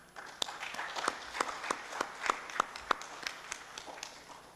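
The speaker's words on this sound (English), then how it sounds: "invite you to join me on a round of applause" Sparse, light applause from a seated audience for the panelists at a forum on cybercrime and electronic evidence: a handful of distinct claps at a steady pace over a quiet room, fading toward the end.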